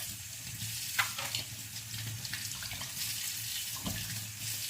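A kitchen tap runs steadily while dishes are washed, close splashing water with small clinks and knocks of items in the sink, no talking.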